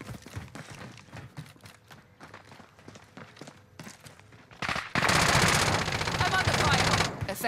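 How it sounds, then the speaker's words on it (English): Incoming gunfire on Rebirth Island in Call of Duty Warzone: scattered distant shots and footsteps at first, then a loud, sustained close machine-gun burst rattling continuously. "I'm under fire."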